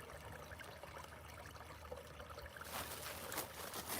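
Water trickles outdoors in a steady, faint dribble, joined near the end by a brighter, louder splashing flow, with no talking.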